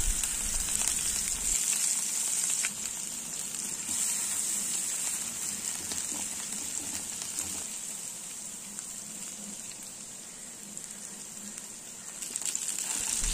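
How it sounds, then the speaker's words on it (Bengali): Eggplant pieces coated in salt and sugar fry in hot mustard oil, giving a steady, close sizzle and hiss that holds for the whole stretch, with slight swells and no voices. "তেল গরম হলে নুন চিনি দিয়ে মাখিয়ে রাখা বেগুনের টুকরোগুলো দিয়ে দিচ্ছি ভেজে নেওয়ার জন্যে।"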